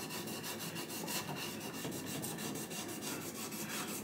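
Cloth rubs and wipes grease off a metal match unit from a 1972 Williams pinball machine, quiet repeated scrubbing strokes in a steady back-and-forth rhythm, close by.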